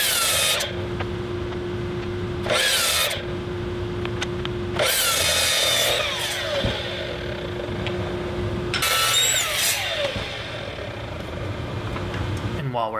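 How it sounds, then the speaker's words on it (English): A miter saw cuts ash wood pieces to final length in a workshop, several loud whining bursts of blade cutting separated by quieter pauses with a steady motor hum, close by. "break things down to all of their final lengths on the miter saw"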